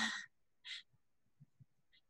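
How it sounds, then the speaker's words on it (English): Birds outdoors call in a few short, bright chirps and squawks with gaps between them, faint and distant with low background noise. "there's so many birds here"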